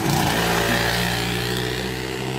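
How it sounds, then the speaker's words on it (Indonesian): A Honda NSR 150 two-stroke motorcycle engine revs loudly and close, its buzzing exhaust tone holding steady and easing slightly at the end. "Jangan lupa soal suara knalpot yang khas 2 tak."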